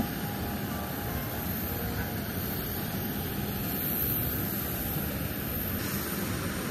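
A steady, broad airplane engine roar drones on without pause at Hamilton Island airport during boarding, with no speech.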